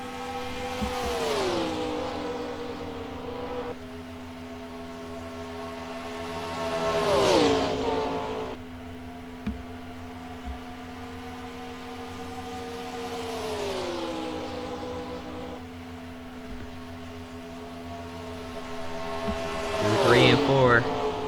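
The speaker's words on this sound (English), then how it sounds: "Jimmie Johnson trying not to over push himself as he tries to run that 17 car down" NASCAR stock cars roar around the track during the 2005 Coca-Cola 600, engines droning steadily and swelling into loud passing surges as cars sweep by, with a commentator talking over the race noise throughout.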